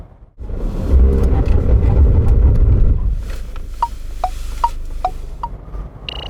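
A 2021 SsangYong Rexton brakes hard during a test: a loud rumbling whoosh of the vehicle slowing for a few seconds, then quieter running with a series of short, clicking ticks.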